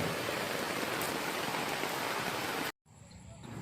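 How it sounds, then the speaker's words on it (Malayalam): Loud, steady downpour of heavy monsoon rain drums on surfaces, then cuts off abruptly near the end, leaving a quieter background hum. "നല്ല മഴയാ."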